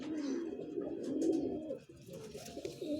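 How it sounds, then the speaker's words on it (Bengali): Low, soft cooing from a female Punjabi pigeon in a home loft, a steady murmuring coo that runs through the clip at close range with no talk. "একটি পাঞ্জাবি মাদি পায়রা শখ করাচ্ছি আপনাদের"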